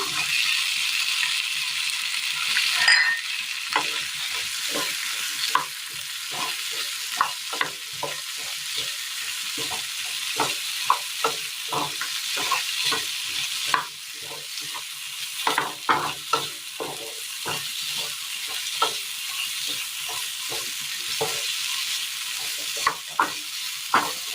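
Onion and eggplant fry in a pan under a continuous loud sizzle, while frequent stirring clicks and scrapes of a spoon come through in an irregular rhythm.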